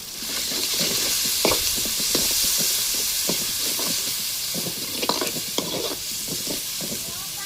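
Ginger paste frying and being stirred in a pan, with a steady loud sizzle and hiss and repeated scraping stirs of the spoon.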